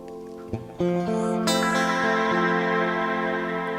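An electric guitar chord rings out through a thick plex delay, its repeats trailing behind while a wah sweep shifts the tone between dark and bright.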